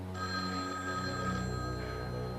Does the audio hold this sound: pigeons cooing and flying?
no